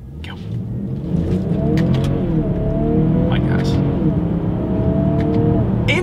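A 2021 BMW X5 xDrive40i accelerating hard from a standstill on a straightaway, engine note loud and close, rising in pitch through quick paddle-shifted gear changes with a brief dip between gears; a voice talks over the engine.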